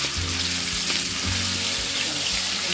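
Sambal belacan fries in hot oil, sizzling and crackling steadily, loud and close, with occasional low clinks of stirring underneath.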